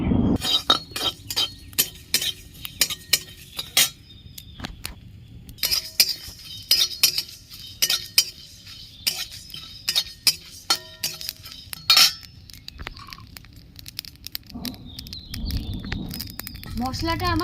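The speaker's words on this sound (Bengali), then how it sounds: "গোটা ধনে, গোটা জিরে, গোটা মৌরি, 5 ফোড়ন, 3টে শুকনো লঙ্কা আমি সব একসাথে ভেজে নিচ্ছি" Whole coriander, cumin, fennel, panch phoron and three dried red chilies dry-roasting in a pan, heard as repeated sharp metallic clinks and scrapes of a spoon against the pan over a low rustling bed, with a hissing rise near the end.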